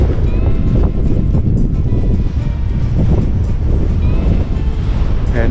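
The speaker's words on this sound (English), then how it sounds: "Hear the wind?" Cold wind blows hard and steadily outdoors in the port town of Nanortalik, Greenland, a loud, broadband rushing roar buffeting the microphone throughout with no break.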